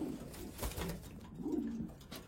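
Pet pigeons cooing up close, a few soft throaty coos in a row with light rustling, no talk.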